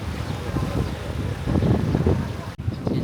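Strong wind gusting across the microphone on the Tamsui waterfront in Taiwan, a loud continuous buffeting roar with a short dip, while someone talks nearby.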